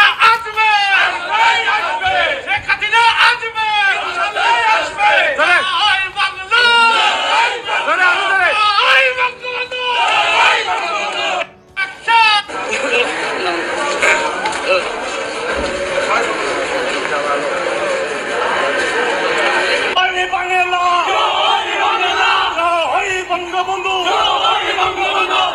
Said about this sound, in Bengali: রাস্তায় রাস্তায় স্লোগান দিচ্ছে ছাত্রলীগ